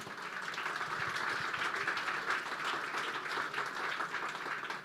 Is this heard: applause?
yes